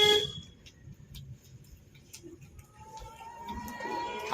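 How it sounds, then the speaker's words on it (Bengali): A car horn sounds a short honk at the opening as the car is about to turn into a narrow lane, followed by quiet street ambience with birds cooing. "হর্ন শুধু গলিতে ঢোকার আগেই হর্ন"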